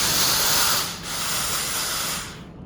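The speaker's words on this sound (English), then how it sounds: "I'm lining my hot hemmer up here, just like this, and then I'm gonna give it some steam." A steam iron blasts a strong, continuous hiss of steam onto a fabric hem folded over a hot hemmer, holding steady for about two seconds before tapering off.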